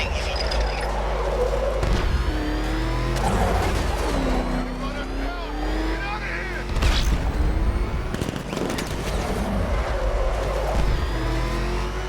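A car in a Batman video game drives and revs loudly throughout, its engine roar mixed with booms and bursts like gunfire, with voices talking over the game sound.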